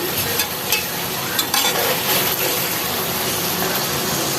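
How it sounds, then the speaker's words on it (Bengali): Hilsa fish sizzles steadily in a hot pan, with a few soft clanks and scrapes as pieces are turned over. "মাছগুলো উল্টিয়ে দিচ্ছি"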